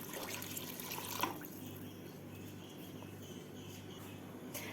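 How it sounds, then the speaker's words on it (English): Hot water is poured into a pot of mutton pulao with basmati rice, a soft, continuous trickle and splash that stays fairly faint and close, with no talk. "So I'll add more water."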